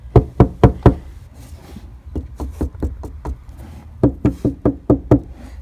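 Knuckle knocks on the bare metal over the frame of a Pontiac G6 car body near spot welds: sharp, solid raps in quick bursts of about four, then a longer run of eight and another of seven, close and loud.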